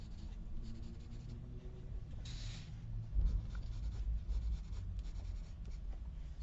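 A charcoal pencil scratches and rubs steadily across paper in soft, continuous shading strokes, close by, over a low background hum.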